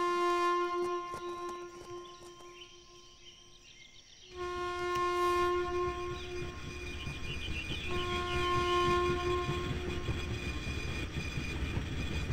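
A train rolls past in INFRA: a deep, steady rumble swells abruptly and stays loud, carrying sustained horn-like tones for several seconds.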